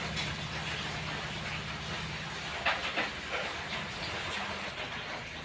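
Onion and chilli fry in hot oil in a kadai with a loud, steady hiss and crackle, close up, with a few sharper spits partway through.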